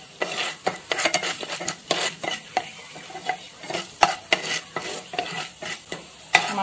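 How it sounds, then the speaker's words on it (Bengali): Spices fried and stirred in a pan for a South Indian aam bhat dish, with a steady soft sizzle broken by frequent sharp scrapes and clinks of the spoon against the pan, close and alone. "আমারটা অল্প কালার চেঞ্জ হয়ে আসছে, একটু ভাজা হয়ে গেছে।"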